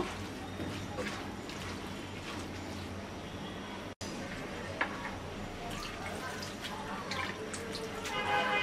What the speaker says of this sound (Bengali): হাফ কাপের মতো পানি দিয়ে দেব।